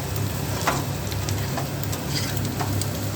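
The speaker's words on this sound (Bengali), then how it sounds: "এখানে আছে ক্যাপসিকাম, ডিম, কাঁচা লঙ্কা, পেঁয়াজ সব দিয়ে, বাঁধাকপি সব দিয়ে ভেজে নিচ্ছি ভালো করে" Capsicum, egg, green chilli, onion and cabbage fry for chow mein, giving a steady dense sizzle with faint occasional stirring clicks, close and continuous.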